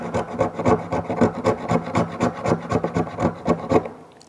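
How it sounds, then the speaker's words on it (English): The back spine of a knife scrapes shavings off a stick of fatwood, a close, dry rasping in steady rhythmic strokes, about a dozen passes, ending as the scraping stops. "The first way is using the back spine of your knife or your tool. Is just scrape some shavings off."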